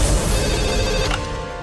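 A telephone rings loudly with an incoming call at an emergency ambulance service office, a dense electronic ring over a noisy background that cuts off near the end.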